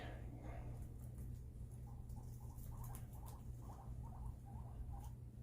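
A small rodent chatters in rapid, repeated chirping bursts, faint against a constant low background rumble.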